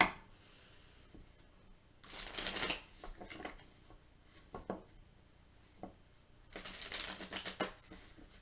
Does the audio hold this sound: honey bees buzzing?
no